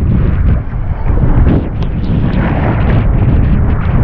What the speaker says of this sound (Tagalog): dahil sobrang lakas ng hangin guys, tsaka agos